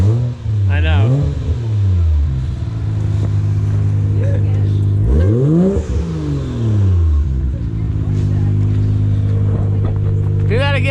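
Mazda RX-7 FD rotary engine with a new exhaust and blow-off valve, revved hard twice and rising and falling each time, with the valve hissing and fluttering between revs over a loud close idle, and people talking.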